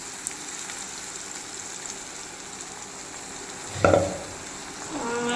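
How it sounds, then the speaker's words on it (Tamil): Tomato paste made from about five boiled, finely ground tomatoes is poured into a hot pan, bringing a sudden louder burst of sizzling over a low, continuous frying hiss that then settles back down. "ஃபைன் பேஸ்ட்டாக அரைச்சி வச்ச தக்காளியை கிட்டத்தட்ட ஒரு அஞ்சு தக்காளி வேக வச்சு அவிச்சு நம்ம வந்து பேஸ்ட்டை ஊற்றுறோம்"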